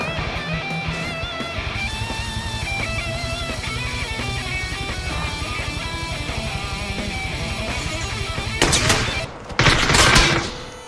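Video game gunfire: a steady rapid burst of automatic fire runs loud and continuous through most of the stretch, ending in heavier, louder shots near the end.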